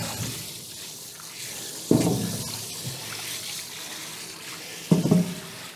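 Water splashes and trickles over freshly harvested beets being rinsed, a steady close running flow with two sharper bursts of splashing partway through, no talking.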